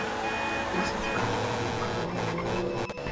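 A Turismo Classic sports car drives in GTA V, its steady engine drone holding close and loud throughout, with faint voices beneath.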